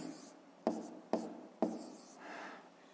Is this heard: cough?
no